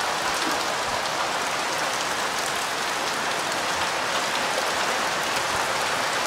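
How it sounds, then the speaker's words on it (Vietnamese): Heavy rain pouring down outdoors during the rainy season, a dense, loud, steady hiss of drops on surfaces with no letup and no voices. "mưa một lúc thì cái chậu nước cũng đã đầy rồi, mưa rất là to"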